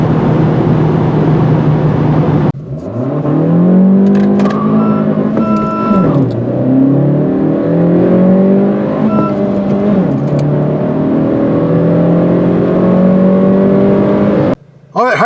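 A 2025 Honda Civic Si accelerates hard while driving downhill, its engine note rising and falling as it climbs through the revs and shifts gears, loud and close from inside the cabin.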